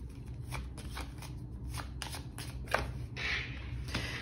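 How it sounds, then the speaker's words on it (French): A tarot card is laid onto a deck, giving soft papery slides and taps, with a brief crisp flick in the middle and a short shuffle-like rustle near the end. The sound is quiet and close, with no talking. "je vais remettre une carte là-dessus"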